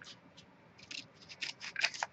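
Scissors cutting a bag loose to form a flap: a series of close, crisp snips that grow more frequent and louder toward the end, with no one talking.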